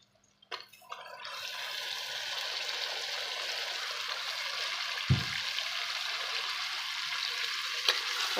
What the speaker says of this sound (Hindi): और चिकन को अच्छे तरीके से हम इसके अंदर फ्राई करेंगे